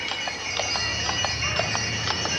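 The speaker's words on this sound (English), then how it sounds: "They're driving a Belgian horse, pulling a Meadowbrook wagon." Regular clip-clop of a Belgian draft horse's hooves on pavement as it pulls a Meadowbrook wagon in a Christmas parade, an even trotting rhythm over a low steady rumble of wheels or traffic.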